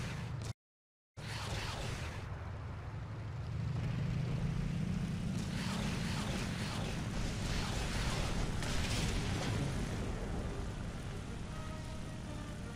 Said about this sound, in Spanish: hay que lanzar cohetes con el L1